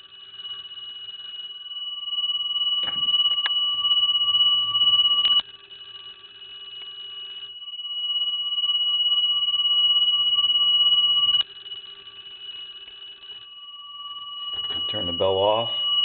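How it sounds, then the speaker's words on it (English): A vintage Kellogg wall telephone bell rings in loud, sustained bursts of metallic clangor, about three long rings separated by short pauses, with a brief clatter at the end. "anyway, we're going to ring the phone."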